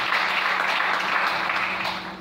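Congregation at a church service breaking into steady, dense applause, a loud wash of clapping that fades slightly at the end with no speech over it.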